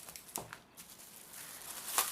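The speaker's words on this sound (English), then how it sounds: "I'm ripping up the plastic bag" A plastic Ziploc bag and strip of tape being torn apart, giving brief crinkling and ripping bursts that come and go over a couple of seconds, fairly close and quiet with no talking.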